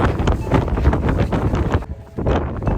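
Strong gusty wind on an Irish hiking trail buffets the microphone with a heavy roaring rumble, easing briefly before surging again.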